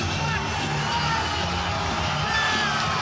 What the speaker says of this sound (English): Oh, this crowd is absolutely erupted.